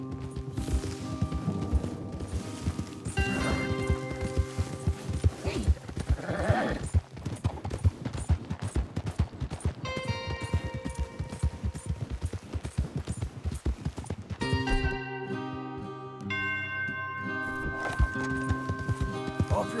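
Hooves clip-clop steadily as horses gallop in Red Dead Redemption 2, a dense rhythmic drumming under game music and occasional voices, with a brief whinny and a calmer stretch near the end.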